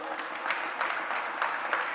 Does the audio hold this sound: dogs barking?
no